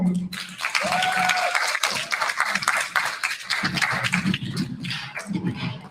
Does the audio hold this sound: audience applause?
yes